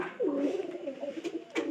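A Lakshmi pigeon coos in a soft, throaty, rolling call that swells and dips for over a second, close by and alone.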